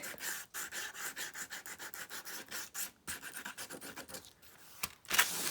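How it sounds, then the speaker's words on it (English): A tiny disc sander rubbing along the edge of a junk journal cover, steady rasping strokes in a rapid rhythm, soft and close, with a brief louder scuff at the end. "Now I got this little teeny disc sander, just kind of going on the edge over here"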